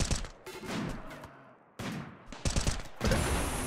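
Gunfire in the video game Rimworld comes as rapid bursts of small-arms shots separated by brief pauses, fairly loud and close, with no talking.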